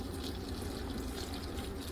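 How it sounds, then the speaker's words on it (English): Water is poured into a tamale steaming pan, giving a steady, close splashing and trickling rush that lasts the whole stretch. "I'm going to add a little bit more water to my pan"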